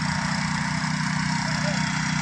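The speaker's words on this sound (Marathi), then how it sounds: "इकडे ट्रॅक्टर चालू, सगळीकडे आता ट्रॅक्टरच आमच्याकडे आहेत." A farm tractor engine runs steadily nearby in the Konkan countryside, a low, even rumbling chug that holds throughout with no change in pace.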